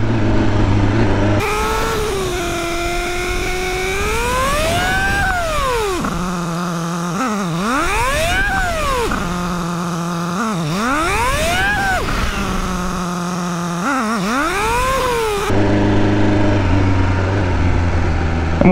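A motorcycle engine drones close by, its pitch repeatedly rising and then sinking as it decelerates under engine braking while bedding in new brakes, with a steady tone before and after.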